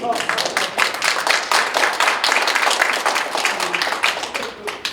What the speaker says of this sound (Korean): 좋으면 박수 치십시오